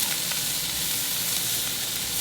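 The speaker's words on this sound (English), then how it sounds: "We're sweating the onions." Steady, close sizzling of onions frying in a pan, a continuous bright crackle with no talking.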